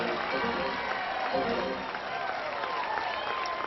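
Crowd noise at a women's college softball game, Oklahoma against Baylor, a sustained roar of cheering and clapping in the stands under music, with a commentator's voice on top.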